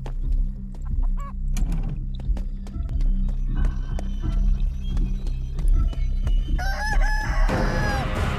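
Chickens in the video game Chicken Feet crow loudly several times and cluck around them, with a steady low hum of background game noise underneath.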